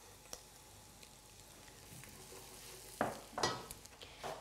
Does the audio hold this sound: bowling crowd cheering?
no